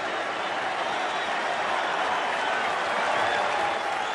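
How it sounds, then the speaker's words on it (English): A baseball crowd applauds a big hit by Cabrera, Rangers fans included, as a dense, steady wash of clapping and cheering from a stadium that holds at a constant level throughout. "even the Rangers fans behind the dugout applaud this as Cabrera comes back to the bench"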